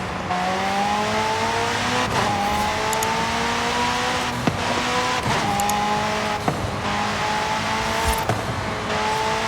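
A McLaren drives to the start line in the racing game Forza Horizon 5. The engine note climbs and falls in repeated gear shifts, with brief tire squeals and clicks over a steady close motor drone.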